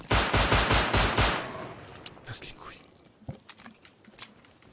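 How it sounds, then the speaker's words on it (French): Gunshots in the survival game Rust, a rapid burst of six or so loud sharp shots in quick succession, followed by quieter scattered sounds and faint activity. "C'est vous qui avez tiré avec l'arme?"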